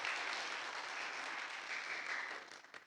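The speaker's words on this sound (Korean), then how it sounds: "우리 환영하겠습니다. 박수하겠습니다." A church congregation at Sunday service applauds to welcome a newly registered couple, a soft, steady wash of clapping heard from a distance that tapers off near the end.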